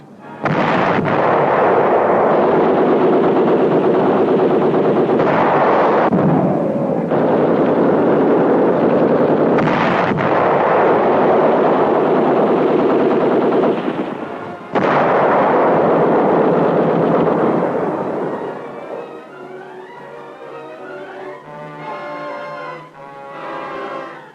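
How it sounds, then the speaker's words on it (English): Bombs explode across a WWII South Pacific island camp on Rendova Island, striking ammunition dumps, kitchen, motor pool and big guns: loud, sustained roaring blasts in repeated waves, then a quieter crackling rumble with scattered noise at the end. "Bombs found the ammunition dumps, the kitchen area, motor pool, the big guns."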